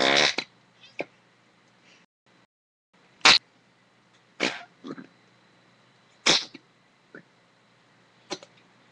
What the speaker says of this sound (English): It's like fart putty or something.